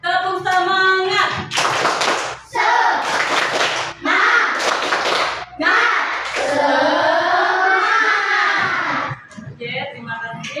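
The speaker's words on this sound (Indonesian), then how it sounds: "Tepuk semangat" A class of children performs a rhythmic spirit clap routine, bursts of loud hand claps alternating with chanted group voices in a classroom.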